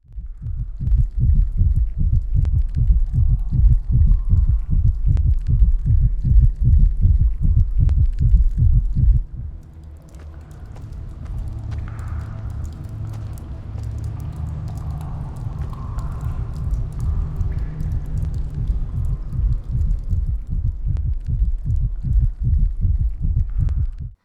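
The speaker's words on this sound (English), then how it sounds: "take a little listen to the heartbeat of these dragons" A slow, regular throbbing heartbeat from dragon eggs in the video game Fortnite, deep and steady, pausing briefly midway before resuming with a softer hum layered beneath the repeated thumps.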